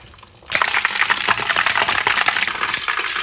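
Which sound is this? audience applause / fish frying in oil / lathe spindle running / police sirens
fish frying in oil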